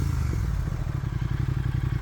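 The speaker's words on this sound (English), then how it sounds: "Let's give it a couple revs so you can hear the motor." Customized 2018 Triumph Thruxton 1200 R motorcycle, warm engine revved a couple of times at close range, a steady low throbbing idle with mechanical clatter swelling slightly on the blips.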